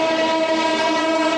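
A Lichchhavi Express train's horn blares in one loud, steady, sustained tone as it rushes past at high speed, close by.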